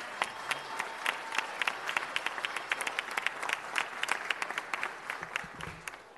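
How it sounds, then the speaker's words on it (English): Audience applause at a city council meeting, many hands clapping in a steady, fairly close wash with sharp individual claps standing out, ending with a faint low voice. "Another big round of applause."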